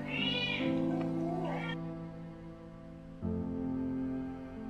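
A cat at a shelter for homeless cats meows in a few drawn-out, close, clear calls with short pauses between them and no talk.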